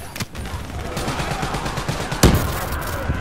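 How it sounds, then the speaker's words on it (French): Gunfire rattles through a Call of Duty Black Ops 3 campaign battle, with one sharp, loud grenade blast bursting out in the middle before the shooting carries on. "Hop, une petite grenade."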